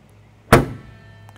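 The trunk lid of a 1971 AMC Ambassador slams shut in a single solid, close thud that decays quickly into quiet.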